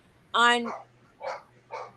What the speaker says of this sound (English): oh, my dogs are freaking out.